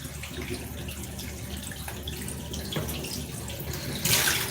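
Steady rushing water from a tap, a continuous hiss that swells into a brighter splash near the end.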